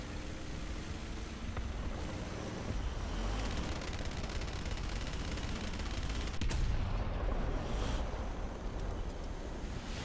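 Bombs explode during a War Thunder tank battle featuring a Leopard 2A6: a dense, continuous roar of blasts and rumbling gunfire, with a sharper, heavier burst near the middle and no talking.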